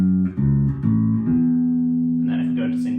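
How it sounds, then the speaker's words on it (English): Custom Matriarch medium-scale bass guitar played through its bridge pickup in normal humbucking mode: a few plucked notes with a strong, sustained low fundamental, ending in brighter finger noise, heard alone and close. "we've got the bridge pickup selected at the moment, and this is how it sounds normally"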